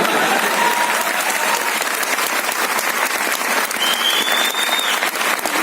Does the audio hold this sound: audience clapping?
yes